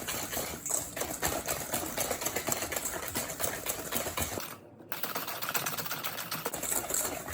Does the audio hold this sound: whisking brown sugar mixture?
yes